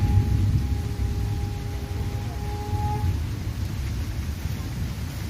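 Steady rain pours down in a monsoon storm as thunder rumbles low and continuous, with wind tossing mango trees and dark clouds overhead; the wash of rain stays loud and even throughout, with no voices.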